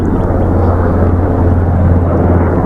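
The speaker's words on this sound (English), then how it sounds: "Oh, there's the president's helicopter." Presidential helicopter Marine One passing overhead, a loud, steady low rotor and engine rumble filling the whole stretch with no break.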